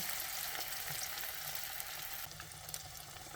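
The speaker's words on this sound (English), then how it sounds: "So let's put in our potato nuggets. Let it fry for just a couple of minutes." Potato nuggets frying in a pan of hot oil, a steady dense sizzle that runs unbroken and fairly loud, easing slightly partway through, with no voices over it.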